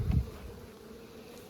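Honey bees buzz around an opened hive during a summer split check, a soft steady drone that swells briefly at the start and then settles into a faint continuous hum.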